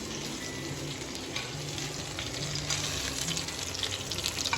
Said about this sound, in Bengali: আর এখন এই পুর ভরা পটলগুলোকে ভাজা হচ্ছে।